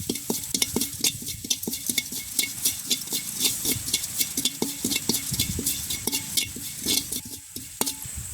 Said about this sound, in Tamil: எண்ணெய் அளவாக நாங்கள் கட்டத்தூளை சேர்ப்போம் நல்லா கிண்டி விடுவோம்